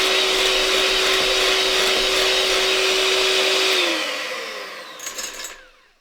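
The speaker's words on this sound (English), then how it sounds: "we're going to whisk this until it's light and fluffy" An electric whisk beats cake batter until light and fluffy, a steady loud motor whine holding for about four seconds before winding down and stopping.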